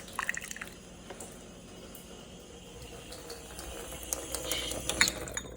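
Filtered water running from a kitchen sink tap, a soft steady trickle with faint drips and a few light clinks, quiet and close, with no talking.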